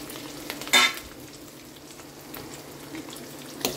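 Lentils and garlic fry in hot oil with a soft, steady sizzle, broken by a sharp stirring clatter near the start and a brief scrape at the end.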